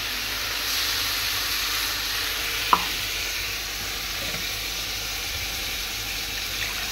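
Spice-rinsing water splashed into a pan of hot masala, giving a loud, steady sizzle and hiss with stirring throughout, and one brief sharp clink near the middle.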